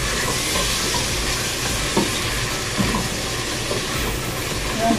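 Mushrooms are stirred and fried in a pan, giving a steady close sizzle with occasional soft scrapes and clicks from stirring.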